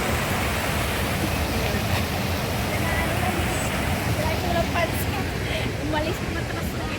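Waterfall in Hong Kong Park, a constant broadband rush of falling water filling the scene, with faint voices in the background.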